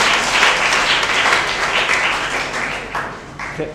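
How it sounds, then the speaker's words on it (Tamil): A seated audience applauds after a speech on nonviolence and Khan Abdul Ghaffar Khan, with steady, dense clapping filling the hall for nearly four seconds and no speech over it. "Thank you for your applause."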